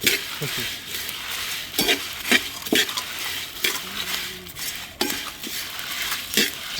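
Spices with ginger and garlic sizzle and crackle in a hot pan while a utensil stirs and scrapes against the metal, with occasional clinks.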